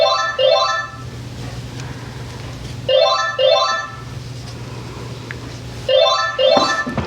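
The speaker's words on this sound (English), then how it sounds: "Excuse the phone, I'm going to have to pick that up in just a second." A telephone rings indoors in three repeated bursts of bright warbling electronic trills separated by short gaps, loud and near over a low steady hum.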